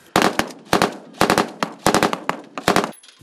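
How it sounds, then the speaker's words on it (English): Gunfire during a military training gunfight rattles out as rapid, loud bursts of sharp shots in close clusters, repeating several times with brief gaps. "A gunfight ensues."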